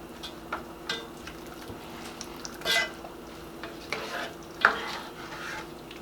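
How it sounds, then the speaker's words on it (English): A seafood boil being stirred in a pot, with scraping and clinking of a utensil against the pot at irregular moments over a low, steady simmering hiss, close and fairly quiet, with no speech. "I'm just going to go ahead, mix that around really well."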